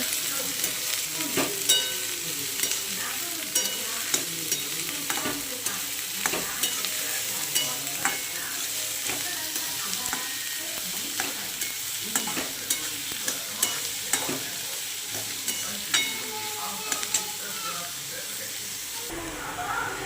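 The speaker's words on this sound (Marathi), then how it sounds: "बारीक चिरलेला कांदा टाकून घ्यायचा मग असा कांदा भाजून घेता" Finely chopped onion sizzles as it roasts in a pan, with a steady hiss and repeated sharp scrapes and clicks of stirring throughout, and faint talk at times.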